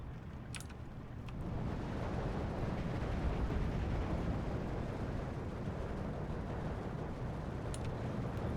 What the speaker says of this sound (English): Alright, artillery starting to shoot.